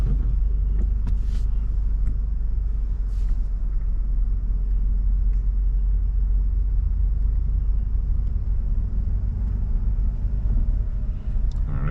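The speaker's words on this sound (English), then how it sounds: "Okay, now look behind and reverse straight back." A car reversing slowly during a driving test, a low steady engine rumble heard from inside the cabin with faint clicks and no talk.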